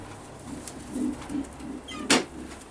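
Racing pigeons in a loft in Brăila, Romania, give soft, low cooing in a few short murmured bursts, with one sharper call near the end. Each sound is faint and close by, with no talking.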